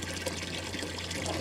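Water running through a hybrid PV-thermal solar panel, a steady soft trickling wash held at an even level for the whole stretch, with a low constant hum beneath it.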